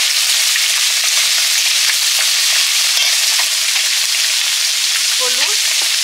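Chopped bottle gourd peels fry in a pan with a loud, steady, close hiss and crackle, and a brief clink of a utensil near the end.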